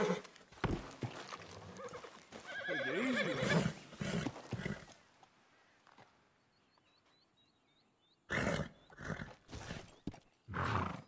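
A horse, a Hungarian Half-bred, whinnies loudly in Red Dead Redemption 2, followed by snorts and stamping, then a quiet stretch with faint bird calls before more horse noises.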